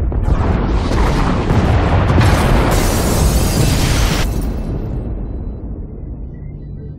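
Large explosions tearing through escape pod bays in a Star Wars: The Old Republic cutscene, a loud sustained roar of blasts and debris rumbling for several seconds before slowly fading.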